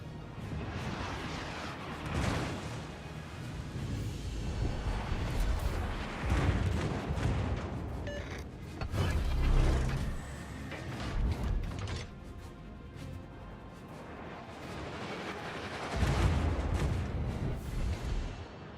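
In World of Warships, the heavy guns of the Neptune fire armor-piercing shells in repeated deep booms over a constant low rumble of battle.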